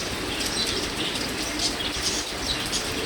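English tippler pigeons take off in the rain, wings fluttering in bursts over a steady hiss of downpour, with faint bird calls mixed in and no talking.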